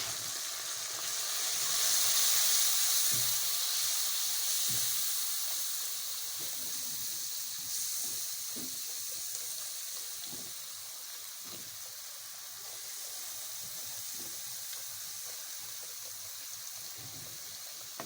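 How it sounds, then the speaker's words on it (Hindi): Salt, chicken powder, ground coriander, cumin, turmeric and red chilli powder roast in a pan with a splash of water for chana, giving a steady sizzling hiss with faint stirring thumps underneath, close and unbroken. "हल्का हल्का पानी डालते हुए मैं इसको 2 से 3 मिनट भून लूँ"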